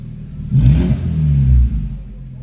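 A Hyundai HB20 engine revs twice through a muffled sport exhaust with a 2.5-inch diffuser, a deep rising growl that settles back to a low idle, close by.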